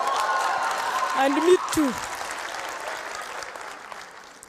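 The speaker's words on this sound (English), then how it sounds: "clap for yourself" Audience applause at a university gathering in Boston, a brief burst of clapping behind a voice speaking over it, with the crowd noise fading gradually toward the end.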